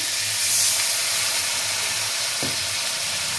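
Cumin powder sizzling and hissing in a hot pan after a splash of water, a steady close frying hiss with a brief spit partway through, no voices.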